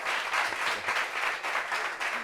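Applause from a small group, steady and fairly close for about two seconds, with continuous hand clapping and no clear voices.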